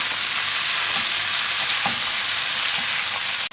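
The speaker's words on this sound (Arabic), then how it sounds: "في المرحلة دي تنزلي بالبصل بتاعك" Onions fry in a pan for chicken shawarma, a loud, dense, continuous sizzle with faint stirring knocks, close up and without talk.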